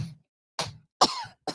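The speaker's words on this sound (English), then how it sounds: "Oh, that cough. I need something for that cough." A man coughs in short, separate bursts, three or four close, dry hacks spaced by brief silences.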